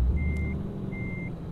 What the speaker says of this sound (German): Fahren wir dann da schnell schön rückwärts auf den Platz.